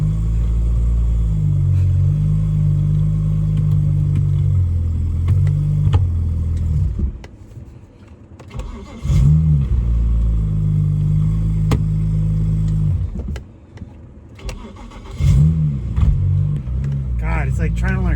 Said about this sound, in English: Definitely have an exhaust leak from that downpipe.